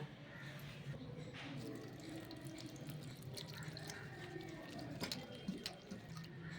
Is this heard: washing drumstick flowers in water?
yes